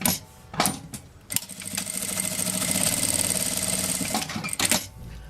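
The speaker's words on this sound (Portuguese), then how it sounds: "E vou passar uma costura reta, tá?" A sewing machine runs a straight seam along the edge of a fabric bag, a steady close whirring stitch that builds for about three seconds, framed by a few clicks and handling knocks before and after, with no talking.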